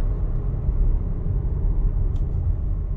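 Hyundai Kona 2023 electric car coasting down without braking, heard from inside as a steady low road and tire rumble with a faint hum and no talking.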